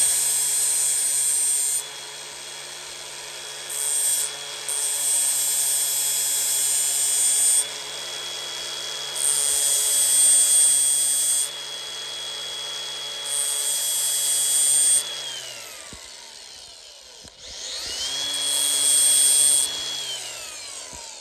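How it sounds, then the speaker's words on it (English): A power grinder fitted with a flap disc bevels the cut ends of a steel sway bar link, whining loudly in repeated bursts of a few seconds each, easing off and spinning back up between passes, with no talking over it. "I just take a flap disc and I bevel it around."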